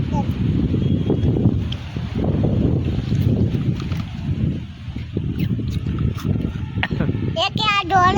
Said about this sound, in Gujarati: બહાર જોરદાર હવાય